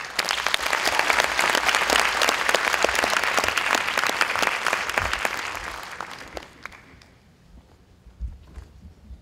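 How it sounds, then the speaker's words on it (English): Audience applause after a plenary conference presentation, loud and sustained for about six seconds with dense overlapping claps, then tapering off into scattered claps and room murmur. "please, one more round of applause to our speakers"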